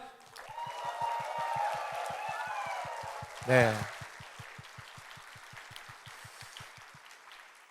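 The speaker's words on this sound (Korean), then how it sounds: "감사의 박수를 한번 올려드려 볼까요?" A church congregation at a Christmas worship service claps in steady rhythmic unison, with raised voices and a loud cheering burst midway, and the clapping continues to the end.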